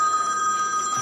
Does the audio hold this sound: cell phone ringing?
yes